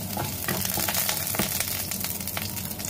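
Mushrooms fry in hot cooking oil in a pan for a mixed vegetable dish, giving a steady, close sizzle with faint stirring scrapes throughout and no talking.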